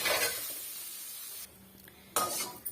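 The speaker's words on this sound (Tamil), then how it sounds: "முள்ளங்கியை இந்த மாதிரி வறுத்து எடுத்துக்கிறோம்" Radish pieces frying in a kadai, a broad sizzle with light stirring clatter, dropping briefly quieter midway before loud scraping stirs return near the end, no talking.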